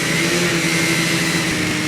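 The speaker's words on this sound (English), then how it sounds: "That engine seems to be a bit reluctant to pick up" A racing engine at a Hackets Lake event that is slow to pick up revs, a steady droning hum held at a fairly constant pitch, close and loud, with no voices.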